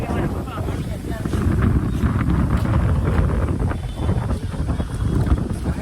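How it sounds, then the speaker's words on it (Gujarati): Strong wind buffets the microphone with loud, low rumbling gusts that surge and ease unevenly throughout. "પવન તો જો."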